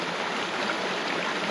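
Water swirls and sloshes in a Garrett gold pan holding gravel during panning in the bush, a continuous close rushing wash with no talk.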